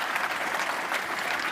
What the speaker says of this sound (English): please give a big round of applause to our president.